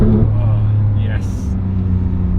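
Engine of a 2017 Porsche 991.2 GT3 sports car droning steadily from inside the cabin, a loud continuous low rumble with no break across the short stretch.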